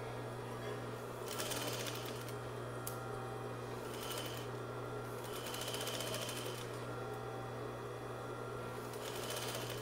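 A sewing machine stitching a patch pocket onto a messenger bag runs in short bursts of needle chatter separated by brief pauses, over a constant steady motor hum, with faint voice-like sound in the background.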